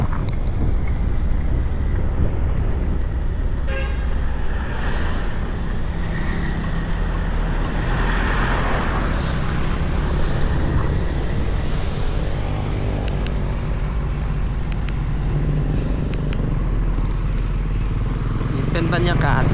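Ride aboard a northern-route bus in Vientiane, Laos: steady loud engine rumble and road noise throughout, with wind buffeting and passing traffic, and a voice talking over it.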